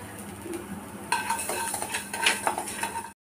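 Salt and asafoetida are dry-roasted in a pan for a homemade kuzhambu spice powder, with a metal spoon scraping and clinking against the pan in quick, close strokes after a quieter start.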